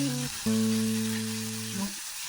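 Onion frying in a pan with salt, a soft steady sizzle heard close under sustained tonal background notes.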